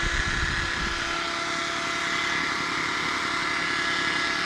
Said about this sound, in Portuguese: Rodando a furadeira para criar o giro.